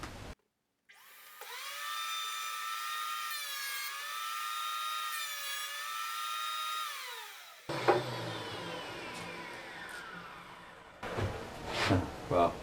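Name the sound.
Makita 2012NB planer thicknesser planing wood, dust extraction on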